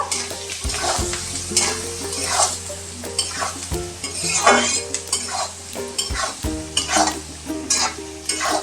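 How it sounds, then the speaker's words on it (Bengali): A spatula stirs salted fish curry in a sizzling pan, with rhythmic scraping strokes and clinks of metal over a continuous frying hiss, close and loud, with no talk. "একটু নেড়ে চেড়ে নেব"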